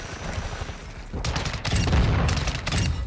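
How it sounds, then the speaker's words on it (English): Rapid video game pistol fire cracks out in several quick bursts, loud and close, after a short lull of low background noise. "these pistols are fucking dope"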